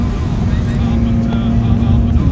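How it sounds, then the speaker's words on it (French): Triumph Trident 660 three-cylinder motorcycle being ridden, its engine giving a steady loud low drone with wind rush throughout, with no clear speech over it. "Ah c'est une dinguerie ce moteur là, le 3 cylindres."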